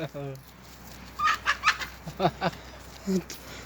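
Several village chickens being fed cluck in short bursts nearby, a cluster of quick clucks in the middle and a couple more near the end, with quiet background between.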